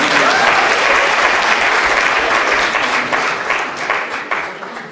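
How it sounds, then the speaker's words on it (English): Audience applause at a university talk in London, dense continuous clapping from many people throughout, loud and close, gradually thinning toward the end. "Guys, I want you to clap if you're up for it."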